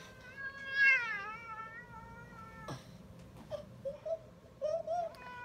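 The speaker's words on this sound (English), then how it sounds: "So this is our pet cat." A pet cat meows several times, with one longer wavering cry followed by shorter, softer mews in a quiet room.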